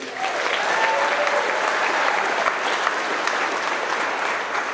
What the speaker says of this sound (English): Let's make some noise for Troy Marquise.